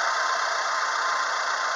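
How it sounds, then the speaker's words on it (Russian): A 2012 Renault Sandero 1.6-litre K7M710 petrol engine idles with a steady, even hum and light rattle, loud and close, with no voices. "Работа двигателя на холостом ходу."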